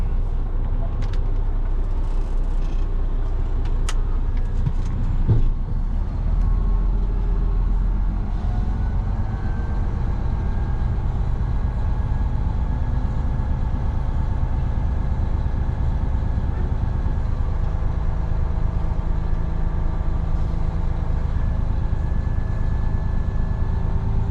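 Truck engine close by, a low continuous rumble that pulls in and settles into a steady idle, with a brief knock partway through and no talk over it.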